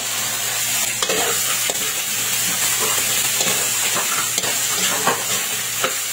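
Softened chicken sizzles in a pan with sautéed garlic and onion, a steady close frying hiss broken by scrapes and clatters from stirring.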